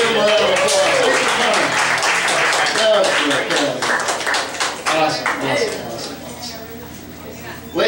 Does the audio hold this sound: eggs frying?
no